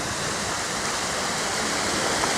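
A waterfall cascades in Prater Park, Vienna, producing a loud, steady broadband rush of falling water that fills the scene without pause.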